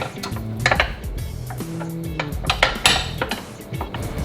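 Metal wrench clinking and ratcheting on a nut under a 2008–2018 Dodge Grand Caravan or Chrysler Town and Country minivan during rear shock replacement, sharp close metallic taps and clicks in an irregular rhythm.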